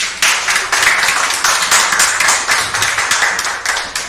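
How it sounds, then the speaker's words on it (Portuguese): A church congregation clapping during a Sunday service: loud, close, sustained applause with rhythmic bursts of hands striking together, no speech over it. "Aplauda o Senhor, meus irmãos."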